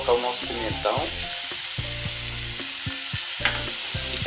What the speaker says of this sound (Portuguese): agora eu vou colocar o nosso pimentão